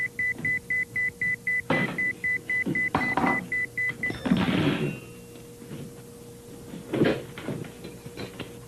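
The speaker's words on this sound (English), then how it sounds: "Whenever I'm happy, close to having a good time, I hear beep, beep, beep." Electronic beeping pulses in an even, steady train for about four seconds and then stops, followed by thuds, rustling and scattered knocks in a quiet room.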